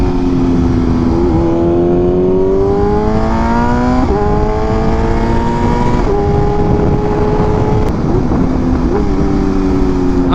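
A superbike with an aftermarket exhaust revs loud and close, its engine note climbing in repeated rising sweeps that drop back at each shift, steady and unbroken with no talk.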